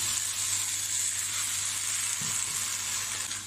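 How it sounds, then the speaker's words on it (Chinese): Starch slurry poured down the side of a hot wok holding Japanese egg tofu gives a steady, loud broadband sizzle that holds evenly throughout, with a brief low bubbling swell partway through. "把调好的这个淀粉水往锅旁边倒下去"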